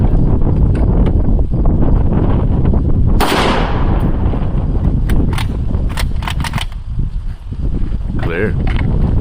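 Gunfire at an outdoor shooting range: loud, sharp gunshot cracks, one especially strong blast near the middle, with wind noise and people talking between shots.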